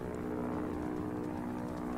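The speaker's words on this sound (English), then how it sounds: "Oh, there's the plane." A propeller plane in a video game drones steadily overhead, a constant buzzing engine hum with a strong fundamental tone, loud and continuous, heard without speech.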